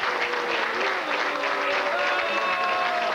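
A crowd at a labor union conference hall reacts as the governor enters: a steady, close wash of massed crowd noise with some droned voices inside it, continuing without a break.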